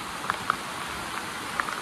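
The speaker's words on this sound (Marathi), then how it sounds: "खतरनाक पाऊस आला." Heavy rain falls in a steady, dense rush, with a few sharper drops striking nearby against the constant patter.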